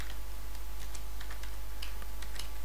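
Quick, light clicks of a computer keyboard tapping in irregular bursts, faint and close, with no voices.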